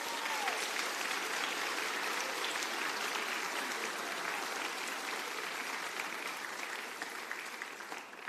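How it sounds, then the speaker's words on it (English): Sustained applause from a crowd at a nursing class pinning ceremony, honoring graduates' families; a dense, steady wash of clapping that carries throughout and tapers slightly near the end. "Round of applause, please, for all these families."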